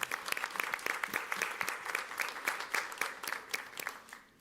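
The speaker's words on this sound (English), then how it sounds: "let's please give a round of applause for the people who are retiring" Attendees at a school board meeting clap for retiring staff, a lively burst of many hands in quick irregular rhythm, fairly close and full, fading near the end with a few light voices underneath.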